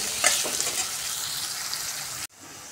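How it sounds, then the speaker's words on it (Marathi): Sliced onions frying in hot oil until brown for a paneer biryani: a close, steady sizzle with a brief crackle near the start, cutting off abruptly near the end to a quiet background. "छान असा ब्राऊन रंग येईपर्यंत याला आपण तळून घेणार आहे।"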